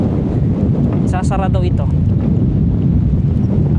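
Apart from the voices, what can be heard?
strong wind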